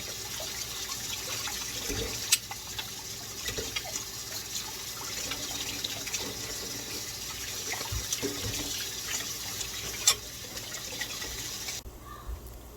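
Water runs steadily from a tap while bananas are washed, a soft continuous splash with a few small knocks and clatters, then the flow stops near the end.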